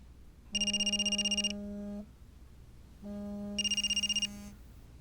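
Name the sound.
telephone ringing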